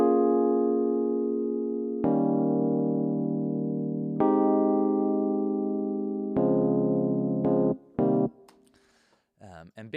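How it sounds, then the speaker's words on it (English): Sustained chords of a chord progression played on a keyboard, each block chord held for about two seconds, then shorter chords at the end with a voice briefly talking over the last moments. "So the fundamental chord progression sounds like this"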